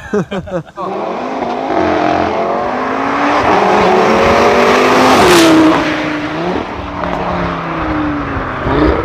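An Audi RS3 with an ABT Stage 1 tune drives past close by, its engine note rising and swelling to a loud peak midway before easing off as it moves away.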